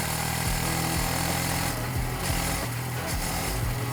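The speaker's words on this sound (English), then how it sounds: "It's got a stock exhaust, but dude, you get to rev it, you get to hear it." A Honda Grom motorcycle on its stock exhaust, revving steadily with a dense buzzing engine drone and rising and falling throttle blips, loud and close, no voices.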